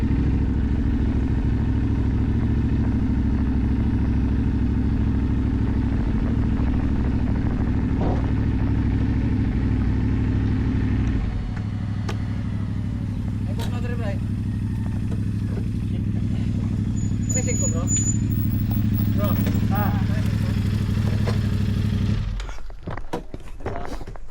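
A motorcycle engine runs nearby with a steady low idle that drops to a quieter running note midway, with faint clatter and a few distant voices before it cuts off near the end.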